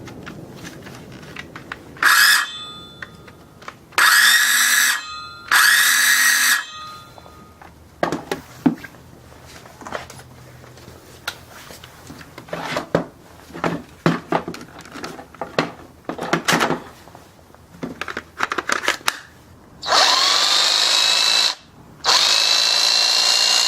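An 18-volt cordless drill, running on a battery pack converted from NiCad to Li-ion, whirs in several short bursts. Quieter handling clatter fills the gaps before a final longer run.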